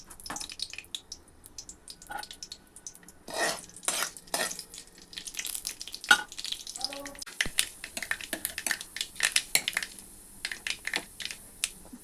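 Mustard seeds and cumin hit hot oil for a spicy potato chutney, giving scattered crackles, pops and spits that come in uneven bursts, close by and moderately loud.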